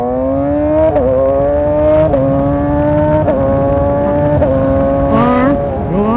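A motorbike engine revs loud and close, its pitch climbing steadily and then dropping sharply at each gear shift, repeating several times in a rising whine.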